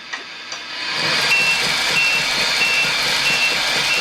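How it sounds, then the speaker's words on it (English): A small motor whirs steadily while a high-pitched reversing beeper chirps in a regular repeating pattern on a 1/14 scale Tamiya Mercedes-Benz Actros 3363 6x4 RC truck, close and fairly loud. "it's running forward but beeping because it's going backwards"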